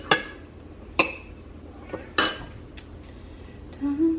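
Utensil scraping and clinking against a bowl while sandwich filling is mixed by hand, a few sharp separate clinks and taps spread over a few seconds in a quiet kitchen.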